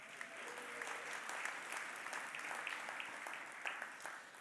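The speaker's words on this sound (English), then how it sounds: "Go ahead, you can clap now." An audience at an alumni awards celebration claps steadily and fairly quietly for a distillery co-founder, with dense, even applause that carries through the whole stretch without talk over it.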